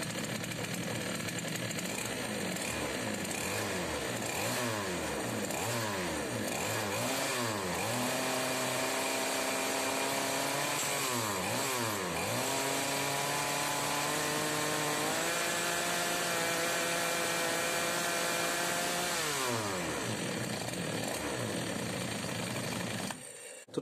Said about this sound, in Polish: Tutaj piła łapie zakres powyżej 10 tysięcy obrotów, delikatnie, ale to są wysokie obroty, które są dopuszczalne dla tych pił.